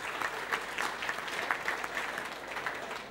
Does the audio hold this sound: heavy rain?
no